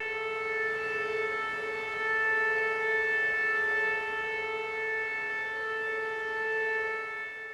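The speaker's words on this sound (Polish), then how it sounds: "Dokładnie o godzinie 17 w mieście zawyły syreny" A steady city siren wails on and on at exactly 5 p.m. for a remembrance, a sustained droning tone with slight swells, heard from a distance with no voices.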